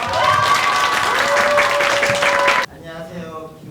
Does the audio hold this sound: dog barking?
no